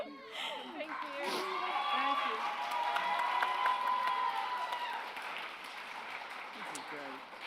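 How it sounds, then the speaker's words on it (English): Sustained applause from an audience at a literary festival awards presentation, steady clapping with some cheering and murmuring mixed in, fading slightly toward the end. "we're going to get another round of applause for Chrissy Anderson Peters"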